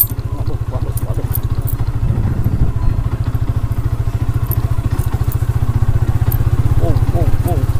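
A motorcycle ridden along a road hums loudly with steady engine pulsing throughout, with occasional bumps and muffled voices mixed in.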